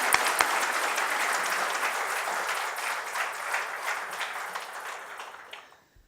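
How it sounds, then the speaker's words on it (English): An audience at a Rededication Day event applauds steadily and fairly loudly for about six seconds, the clapping thinning slightly before stopping abruptly at the end. "please give her a thunderous round of applause before she joins"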